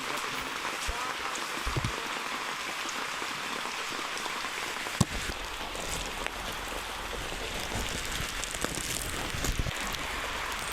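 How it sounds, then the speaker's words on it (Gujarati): Steady heavy rain pours down, a dense hiss with scattered drops pattering close by. "વરસાદના સાંટા વડા વડા પડે"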